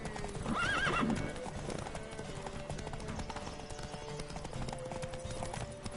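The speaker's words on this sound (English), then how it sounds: "Don't spare the horse! Giddy up." Horse galloping in The Witcher 3 video game, a steady rapid clip-clop of hooves with a whinny near the start, carried under continuous music through a race start.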